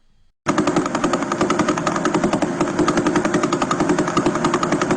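A faster pulsar's radio emission turned into sound, a rapid, rattling stream of pulses like a buzzing machine-gun burst, loud and continuous after a short silent start.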